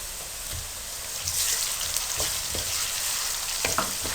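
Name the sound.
garlic paste frying in a pan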